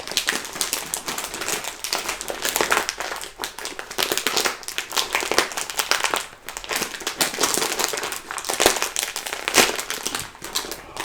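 Crinkly plastic packaging of a Magic Spoon cocoa protein cereal bag being torn and ripped open up close, a dense, continuous run of crackling, tearing and rustling with no talk.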